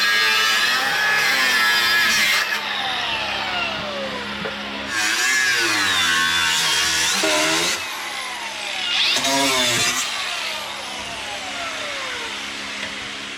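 A power tool trims a Porsche body panel during an EV conversion, whining loudly in several long passes of a few seconds each with shifting pitch, separated by a lower steady hum.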